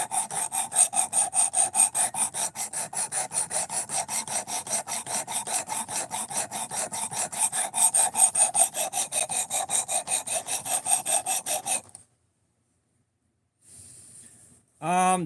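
A knife blade being sharpened on a 220 grit abrasive at 18 degrees per side, a steady run of rhythmic rasping strokes for about twelve seconds, fairly loud and close, then silence and a brief scrape at the end.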